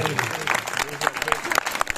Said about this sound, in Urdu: یہ بچیاں بھی تالی بجا رہی ہے